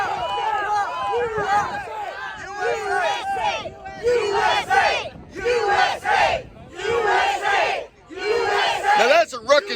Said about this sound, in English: Now that's a ruckus crowd.